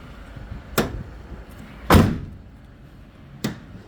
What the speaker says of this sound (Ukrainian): Закриваємо дверцята понизу дверцята не торчать ніде.